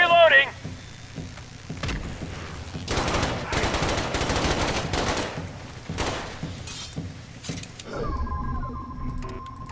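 Shotgun blasts and bursts of gunfire in The Bureau: XCOM Declassified, a cluster of loud broadband shots in the middle with scattered sharper reports and game effects around them.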